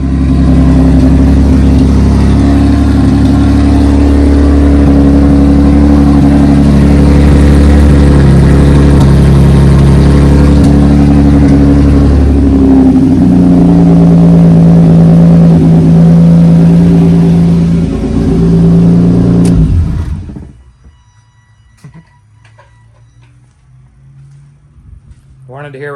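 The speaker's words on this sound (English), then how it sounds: "Wanted to hear what it sounded like with no exhaust." NA Mazda Miata engine running with no exhaust fitted, a loud raw droning roar with shifting revs for about twenty seconds before cutting off abruptly into near silence.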